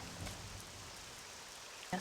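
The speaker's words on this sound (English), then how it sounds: "I feel like the rain sound was getting quieter." Steady, soft rain in the video game Morrowind, a constant diffuse patter with nothing else over it.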